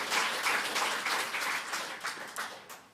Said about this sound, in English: Can you give her a clap